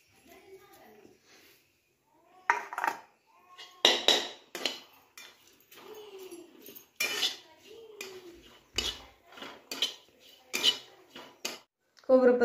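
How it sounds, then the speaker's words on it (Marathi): Grated coconut roasting in a pan on a wood-fired stove, with scraping, clinking spoon-against-pan stirring strokes in irregular bursts, interleaved with someone talking. "आता खोबरं भाजून घेऊया आपण।"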